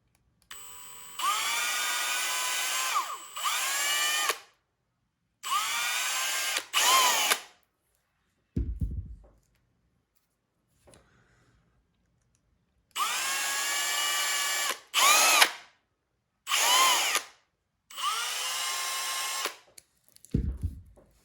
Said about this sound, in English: I try to do these two together when I drill the holes